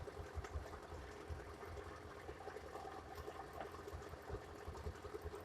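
A Mazda Espass Zebra van engine idles steadily with a low rumbling throb and faint mechanical ticking, running continuously without a break, its thermostat removed.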